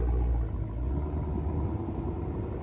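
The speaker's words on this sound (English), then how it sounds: "that engine exhaust sound amazing" Supercharged Hellcat V8 fitted in a minivan rumbling at a steady idle, deep and even, with a slightly louder burble at the start and some faint mechanical clatter.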